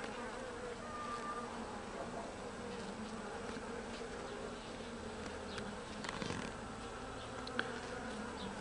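Carniolan honeybees hum in a steady, dense buzz from an open hive during a queen inspection, with individual bees droning close by over the continuous swarm noise and no talking.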